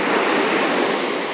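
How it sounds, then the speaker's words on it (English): Ocean waves crashing on the shore at Dockweiler Beach in California, a loud, steady roar of surf with wind rushing across the microphone. "The waves come in with power for you."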